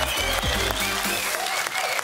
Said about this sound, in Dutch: Geef hem een beestig applaus.